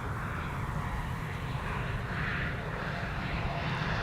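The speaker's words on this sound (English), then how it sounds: "Smooth landing there." An airliner lands on the Polderbaan runway 18R, its engines a steady, broad roar that holds evenly throughout at moderate distance.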